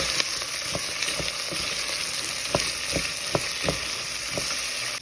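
Broad beans frying with onion, coriander leaves, turmeric and green chili crackle in a steady loud sizzle, with a series of spatula taps and scrapes spaced about half a second apart.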